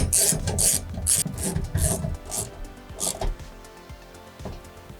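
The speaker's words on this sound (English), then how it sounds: "And we could tighten up these 10mm bolts." Ratcheting and rasping metal tool work while tightening 10mm bolts on a rear MOLLE panel for a 3rd gen vehicle, a series of short repeated clicks and scrapes close by, fading slightly toward the end.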